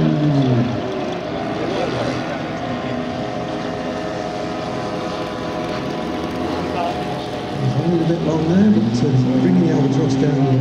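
A radio-controlled WW1 fighter plane, a D7 model, drones in on approach to land at an outdoor flying event, its small engine buzzing steadily with shifting pitch throughout, loud and close, swelling near the end.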